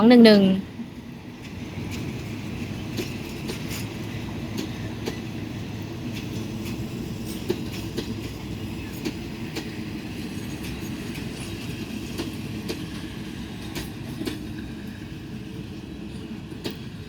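A diesel locomotive train on a Thai railway rumbles steadily nearby, shunting to form train 211, with rhythmic clattering of wheels on track, preceded by a brief spoken voice at the start.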